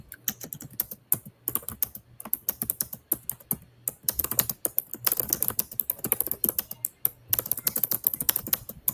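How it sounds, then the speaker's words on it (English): Rapid typing on a computer keyboard, close and crisp, with bursts of clattering keystrokes broken by short pauses, alone without speech. "You hear me over here typing."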